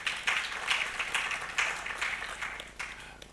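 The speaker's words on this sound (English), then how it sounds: "I think Brevity Anderson deserves a round of applause for this." Applause from an audience at a plenary session of an energy summit, a steady wash of many hands clapping at moderate distance with a few louder bursts, no voices over it.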